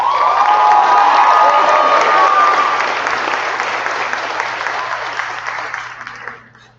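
Applause and cheering fill a high school graduation hall, loud and dense at first with whoops and shouts, then the clapping slowly thins and fades out over several seconds.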